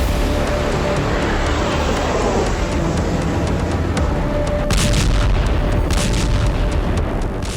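A loud, sustained roaring rumble of a blast and fire from a missile strike on Moscow, a dense broadband roar filling the whole stretch with brighter crackling bursts near the end and no talk over it.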